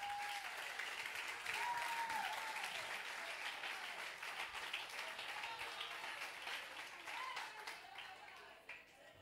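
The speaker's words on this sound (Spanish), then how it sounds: "Déselo fuerte el aplauso" Congregation applauding during a church sermon, a long, dense ovation that stays steady and fairly distant, with a preacher's voice calling out over the clapping before it slowly tapers off.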